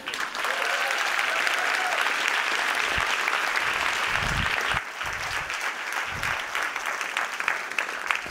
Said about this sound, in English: I love that spontaneous round of applause you gave him